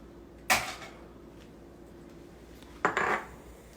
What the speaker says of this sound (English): I'm going to break them one at a time in my little bowl here